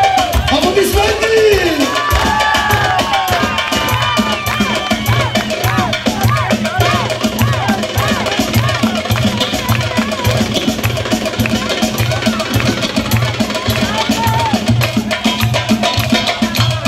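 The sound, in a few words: crowd applauding and cheering at a dance competition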